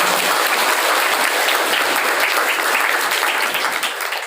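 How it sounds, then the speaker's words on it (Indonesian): An audience at a new-student motivation event at an Islamic boarding school gives loud, dense applause that carries on steadily and fades slightly at the end. "Tepuk tangan buat kita."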